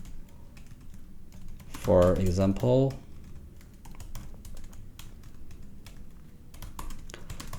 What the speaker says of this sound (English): I could do just typing some words.